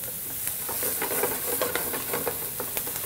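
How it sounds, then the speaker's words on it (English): Diced Yukon Gold potato sizzles in a pan over medium-high heat, a soft hiss with light scattered ticks and stirring clicks, fairly quiet and close, no speech. "then I'm going to add my diced Yukon Gold potato."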